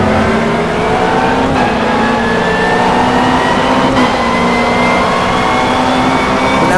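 Dodge Viper race car engine in the GTR2 FIA GT racing game, a loud sustained roar with rising gear pulls and brief shifts, steady and close throughout.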